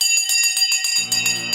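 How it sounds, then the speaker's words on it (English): A stock market opening bell rings out in a rapid run of loud, bright metallic strikes, sustained and steady throughout with no talk over it. "The bell has gone."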